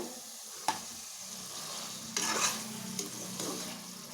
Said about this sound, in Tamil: இப்போ இதெல்லாம் நல்லா வதங்கிடுச்சு